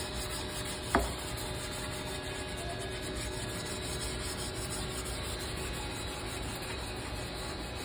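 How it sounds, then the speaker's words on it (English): A wooden flintlock rifle stock being sanded with a large sanding block, continuous rhythmic rubbing strokes with one sharp knock near the start, close and moderately quiet. "See if we can use this bigger sanding block to speed it up a little bit."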